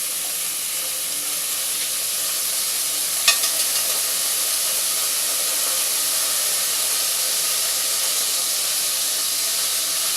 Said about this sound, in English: it is just my beef fat that I got off of my beef stock. And I'm just putting it in the pan.